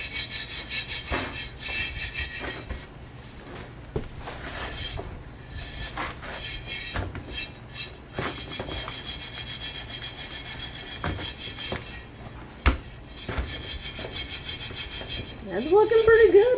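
Rusty old cast iron is scrubbed with baking soda in a rough, rhythmic rasp of back-and-forth strokes that carries on for the whole stretch, with a short louder knock partway through and a voice briefly at the end.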